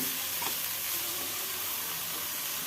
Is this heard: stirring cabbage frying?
yes